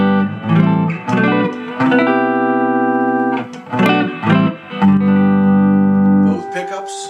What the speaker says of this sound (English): I'll start with a clean sound.